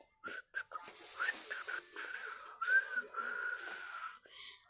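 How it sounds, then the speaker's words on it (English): Person trying to whistle, producing breathy, airy tones in short bursts and wavering stretches, close to the microphone and fairly faint. "Can't even whistle."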